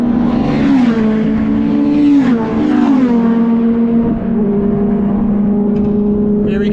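A Ford Focus ST race car roars past at Snetterton circuit, its loud engine note holding high then dropping as it goes by, with brief shifts in pitch.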